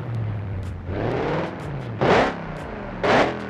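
An Audi R8 V8 engine in the BeamNG driving game starts up and idles, its low steady rumble broken by two short, loud revs that rise and fall back, with no talk over it.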